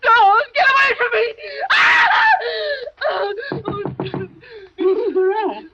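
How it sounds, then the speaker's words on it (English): A woman screams and wails in terror during a nightmare in a radio drama, with loud, anguished cries broken into several bursts, some sobbing and moaning, close and intense. "Why were you screaming?"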